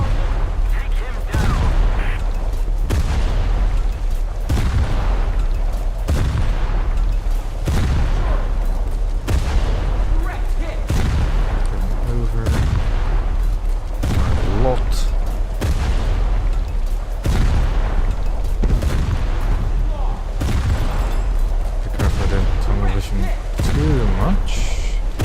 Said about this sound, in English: Might as well just keep shooting at it.